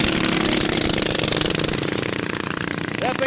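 A small minibike engine at a drag race runs with a steady buzzing, chattering drone, close and loud throughout, with a voice briefly heard near the end.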